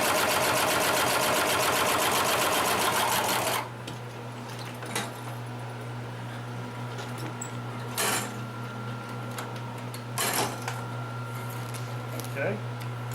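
A Consew 733R-5 heavy duty lockstitch sewing machine sews thick material in a loud, fast, rattling burst for about four seconds, followed by a steady motor hum with a few clunks.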